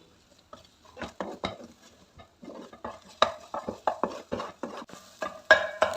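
Beaten eggs being stirred in melted butter in a pan, with a spoon or spatula scraping and clinking against the pan in irregular close strokes and a faint sizzle underneath.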